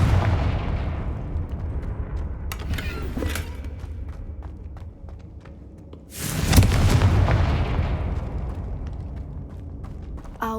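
Two booming Confringo spell blasts in Hogwarts Legacy, a smaller burst early and a much louder explosion midway, each trailing off into a low rumbling decay, with no talk.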